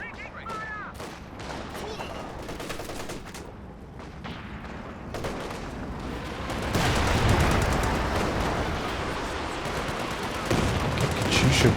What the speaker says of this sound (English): Katyusha barrage, but a little bit further back here, not really hitting too much